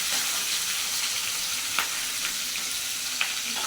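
Singhi and magur fish fry in hot oil with a steady, close sizzle and a few sharp pops and crackles, with no talking.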